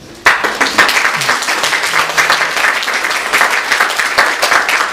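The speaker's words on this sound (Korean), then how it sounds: "박수로." A church congregation at a Sunday service breaks into steady applause, many hands clapping together loudly and continuously after a brief quiet start.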